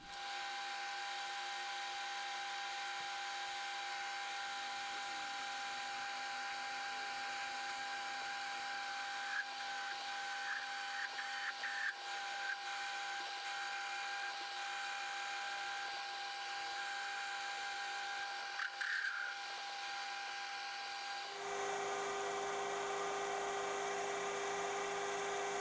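Lathe boring the inside of a steel pipe with a 20mm boring bar, a steady high-pitched machine whine with faint cutting chatter throughout, shifting to a brighter, louder tone near the end.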